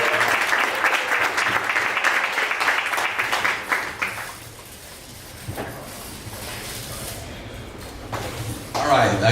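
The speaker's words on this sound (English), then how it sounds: "We welcome him with a round of applause" Audience applause welcoming a presenter to the stage at a morning startup pitch event, dense clapping for about four seconds that thins out and fades, followed by quieter room sounds and a few scattered claps.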